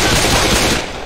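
Video game gunfire: a short, dense, loud burst of rapid automatic shots that fades slightly at the end, with no talking.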